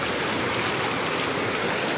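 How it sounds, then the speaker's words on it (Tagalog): Steady rain pours onto a vegetable garden in a sudden heavy downpour, a dense continuous hiss of drops on leaves and ground, close and even throughout with no pauses. "Basa na yung mga ibang gulay ko na to tatalsikan ng ulan"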